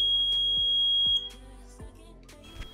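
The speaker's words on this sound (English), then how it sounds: "our sensor detect the LPG gas and buzzer will be alarm" A homemade LPG gas leak detector built on a PCB sounds its buzzer alarm in a sharp high beep, which cuts off partway through and leaves a few clicks and handling knocks.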